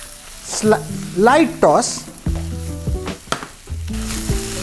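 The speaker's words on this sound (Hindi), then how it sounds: "lightly toss करेंगे till all the vegetables and the paneer get coated with the masala" Paneer and vegetables coated in kadai masala are tossed in a kadai over sizzling heat, a close fry crackle with scraping stirs, while a voice speaks in bursts over it.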